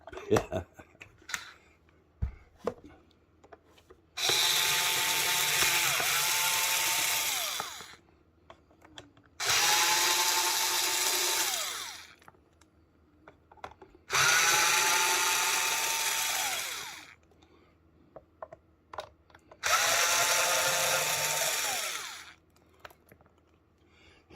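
A power screwdriver backs screws out of an LG PK5 portable speaker. Four loud, close whirring bursts of several seconds each are separated by quieter pauses filled with small clicks and handling noise.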